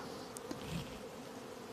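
Steady buzzing of many honeybees at a mobile apiary on a coriander field fills the air, with individual bees passing close by now and then against the continuous hum.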